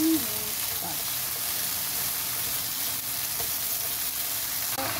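Minced pork frying in a pan, a steady bright sizzle heard close up throughout, with faint stirring noises and a brief clatter at the start.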